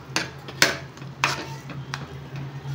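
Vermicelli (semiya) stirred in a pan, a few spaced scraping clinks of a spoon against metal over a low steady hum, quiet and close.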